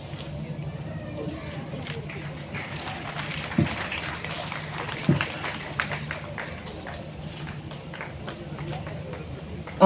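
An audience at a Women's Day award ceremony for health workers claps in a steady, fairly subdued patter that runs throughout, with a few sharper claps standing out.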